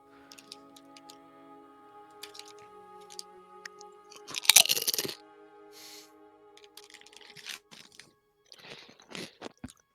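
Sour cream and onion chips are crunched and chewed close up, with scattered crisp bites and one loud burst of crackling in the middle, set against a low background hum.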